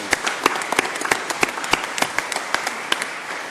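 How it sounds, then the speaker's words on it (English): Audience applause at a county commissioners court data centers workshop: a steady round of clapping from a room of people, sharp individual claps standing out over the dense wash, with no talk over it. "Let's give them a round of applause for coming up"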